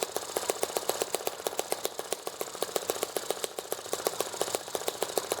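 Small EM2 engine running on a freshly adjusted carburetor, a steady fast rhythmic chatter of firing pulses at constant speed, fairly faint and recorded from nearby with no talking.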